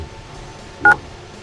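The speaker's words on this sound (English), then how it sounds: "I slowly dialed a number in my phone. 911." A phone keypad sounds a short dial tone as 911 is entered, one brief clear beep over faint background hiss.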